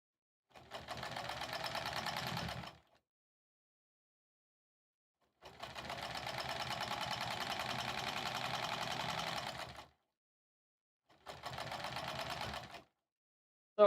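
An embroidery sewing machine stitching a Sleigh Ride pillow cover runs in three bursts of rapid, even mechanical stitching separated by silent pauses, steady and close with no talk.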